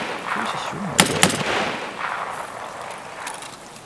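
Gunfire in Escape from Tarkov, a couple of sharp shots close together followed by rumbling echo, with people talking over the sound.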